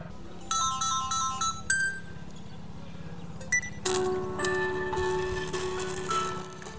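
A Samsung Galaxy S22 Ultra loudspeaker plays a bright, repeating electronic ringtone melody in clear short notes, then a fuller chiming tune, heard alone with a steady low hum underneath.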